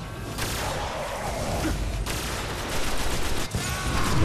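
Rapid bursts of gunfire from a gun in the video game Destiny crackle in quick succession, sharp cracks repeating over a steady background of game sound.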